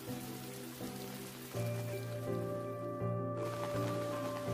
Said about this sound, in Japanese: 次の日も雨だった。